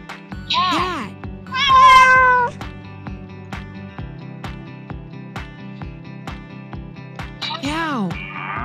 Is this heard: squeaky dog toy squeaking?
no